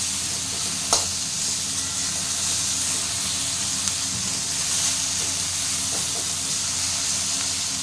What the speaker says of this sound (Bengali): তো এটা হালকা করে একটু ভেজে নিতে হবে।